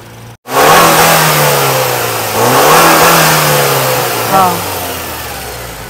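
A used car engine, loud and close, revs up sharply when the accelerator is pressed, then holds and swells again in two more rising pushes before easing back, with no talking.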